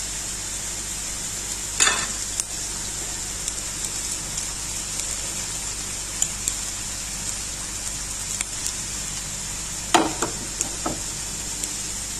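Hash potatoes frying in a pan, a steady soft sizzle running throughout with a few brief louder clatters of utensil handling near the start and toward the end.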